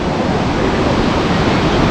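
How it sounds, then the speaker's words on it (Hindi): Icy glacial river rushing below a viewpoint at Badrinath near the Tapt Kund hot spring, a steady, loud, broadband roar of flowing water with no breaks. "ये नीचे बिल्कुल बर्फीली नदी का बहाव जा रहा है।"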